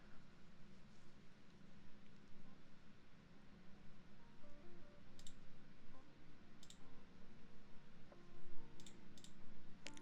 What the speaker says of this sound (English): Clicky. All the clickies.